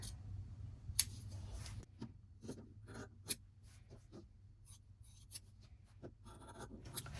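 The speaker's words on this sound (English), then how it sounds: "Then I will go ahead and cut it." Scissors cutting quilted fabric for an Easter basket, soft intermittent snips and rustles with a few sharp clicks, quiet and close.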